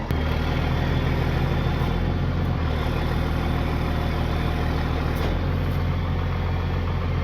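A vehicle engine idles steadily and loudly while warming up, a constant close rumble with no talk.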